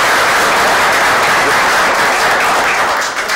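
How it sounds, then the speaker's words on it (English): Loud, dense clapping from an audience at a Board of Supervisors meeting, steady throughout and easing slightly at the very end. "you guys should give Deborah a bigger applause than that"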